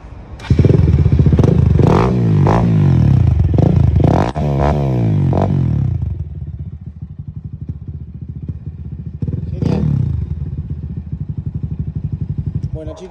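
Bajaj NS200 motorcycle fitted with an aftermarket exhaust, its engine revving up hard several times then settling to a rough, throbbing idle, loud and close, with another short blip near the end.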